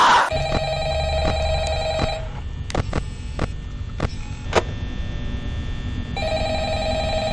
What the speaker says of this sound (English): just pick up the darn phone